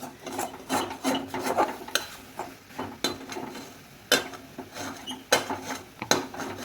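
A spoon scrapes and rasps against a pan as grated coconut and sugar are stirred for coconut laddu. The strokes are repeated, gritty and close, with occasional clinks of metal and no speech over them.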